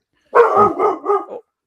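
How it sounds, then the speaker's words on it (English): A dog barks in a quick burst of several overlapping barks and yips lasting about a second, close and fairly loud, with silence before and after. "That's your dog. That is my dog."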